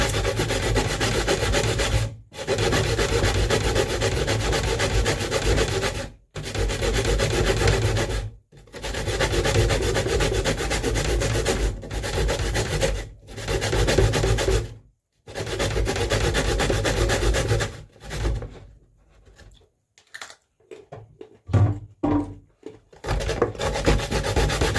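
Steady, rhythmic rasping of food scraped back and forth on a metal grater while preparing Jamaican tin mackerel run down, loud and close, in long continuous strokes with brief pauses, then a few short scrapes at the end; no talking.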